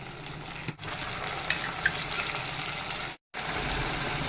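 Tomatoes sizzle and fry in a hot pan, a steady crackling hiss with a brief stir, interrupted by a short drop to silence.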